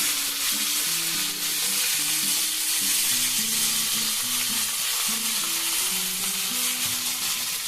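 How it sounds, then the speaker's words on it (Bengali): Chopped onions and tomato fry in a pan with a loud, continuous close sizzle, accompanied by a wavering tonal hum that shifts pitch in steps under the hiss. "পেঁয়াজগুলো নরম হয়ে যাবে টমেটো পেঁয়াজ আর ভাজাও হবে"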